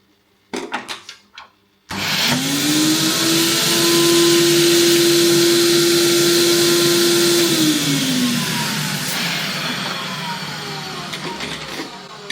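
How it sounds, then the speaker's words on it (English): A Pro-Ject vacuum record cleaning machine starts up after a few brief knocks and runs loud and steady, a droning motor whine with suction hiss that holds for several seconds before its pitch drops and a quieter hum continues. "that's the record cleaned on the Project vacuum cleaner"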